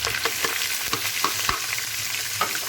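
Steady sizzling of chicken with garlic-ginger paste frying in a pan, with scattered clicks and scrapes of stirring throughout, close and fairly loud.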